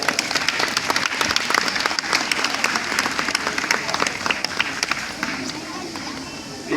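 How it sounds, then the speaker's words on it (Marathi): A school audience claps enthusiastically for students after their speeches, a dense sustained round of applause filling the room from start to finish, with some voices mixed in. "या सर्व विद्यार्थ्यांसाठी एकदा सर्वांनी आपण जोरदार टाळ्या द्याव्या."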